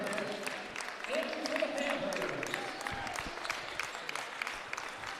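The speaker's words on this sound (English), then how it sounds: "They'll check out and get a big round of applause" A basketball game crowd applauds in a gym, sustained clapping at moderate level under a commentator's talk throughout.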